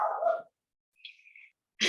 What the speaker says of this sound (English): Let me just let my dog in.